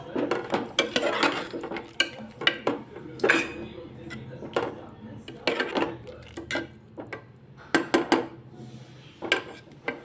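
A spoon scrapes and knocks against a pan while peas and potato curry are mixed, with repeated irregular metallic clatters and taps, close and fairly loud, continuing throughout.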